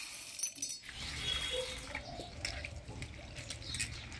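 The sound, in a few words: washing chana dal lentils in water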